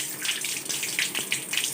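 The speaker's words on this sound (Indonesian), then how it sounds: "Kemudian nyalakan keran" A turned-on tap runs water for handwashing, a steady, fairly quiet splashing stream nearby with no voices.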